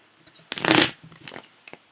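A quick riffle of tarot cards being shuffled close by, one dense burst followed by a couple of lighter flicks, with no talking.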